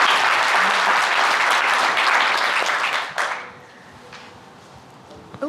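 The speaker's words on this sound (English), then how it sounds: "a round of applause for that" A crowd applauds loudly and steadily for about three seconds before the clapping dies away into quiet room tone with a few last claps.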